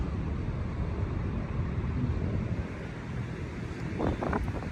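Steady wind on Manila Bay rushes and buffets against the microphone throughout, a constant low roar with a few brief thin sounds near the end.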